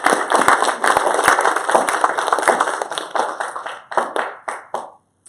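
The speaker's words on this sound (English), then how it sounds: "let's give our speakers a big round of applause" A crowd at a law and public safety panel forum claps for the speakers, dense close applause that thins into scattered individual claps and stops abruptly.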